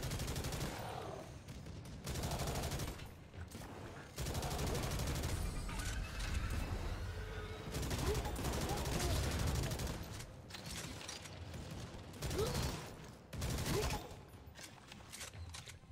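Bursts of gunfire from the video game Necromunda: Hired Gun, repeated loud volleys and rapid shots with mechanical clanks between them, while someone talks over the action.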